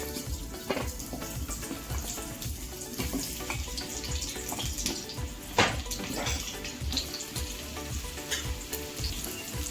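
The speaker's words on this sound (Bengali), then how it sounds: "চিকেন কারির জন্য প্রথমে টুকরো করা আলুটা ভেজে নেব।" Lightly salted potato pieces for chicken curry fry in hot oil, giving a dense, steady sizzle and crackle with a few sharper pops along the way.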